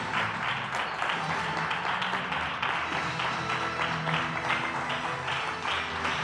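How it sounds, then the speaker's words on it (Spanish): Church congregation applauding at a Spanish-language worship service, dense steady clapping from many people throughout, with some cheering voices mixed in. "Dale un fuerte aplauso."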